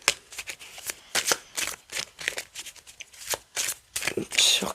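Tarot cards shuffled by hand for a reading, a close run of crisp riffling bursts with short pauses between them, loud and steady throughout.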